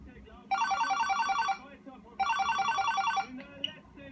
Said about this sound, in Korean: 리자 전화 받죠?